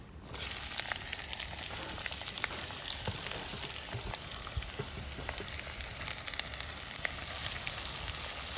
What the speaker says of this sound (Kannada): ಈರುಳ್ಳಿ ಒಳ್ಳೆ ಕೆಂಪಾಗಬೇಕು, ಒಳ್ಳೆ ರೀತಿಯಲ್ಲಿ ಇದನ್ನು ಹುರಿದುಕೊಳ್ಳುವ.